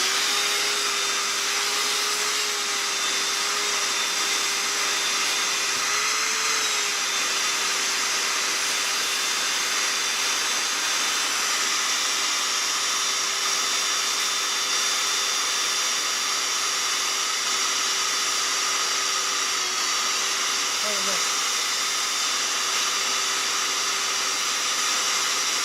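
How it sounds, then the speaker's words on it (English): A vacuum cleaner runs in a woodworking shop as a steady, high-pitched whining hiss that holds constant throughout, with a faint tonal hum beneath and no talking. "Let's vacuum the thing."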